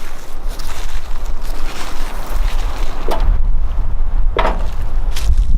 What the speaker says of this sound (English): And then it's getting windy.